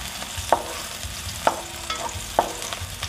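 Garlic fries in oil in a pan for pork pata humba, a close steady sizzle punctuated by three evenly spaced sharp spatula taps against the pan.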